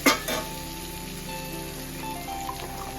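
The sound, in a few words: ginger garlic paste frying in oil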